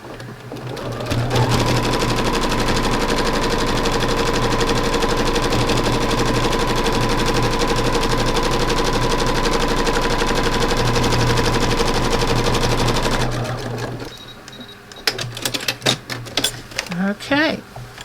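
A sewing machine stitches a quilt seam for a beach landscape quilt, running loud and steady for about twelve seconds before stopping, followed by a few brief handling clatters.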